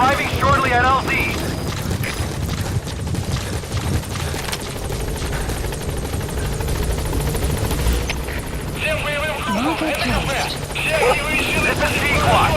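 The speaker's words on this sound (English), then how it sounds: "Support helicopter has arrived." A support helicopter arrives at a landing zone, its loud rotor thumping and turbine roar continuous and close, with radio-style chatter and other noises over it.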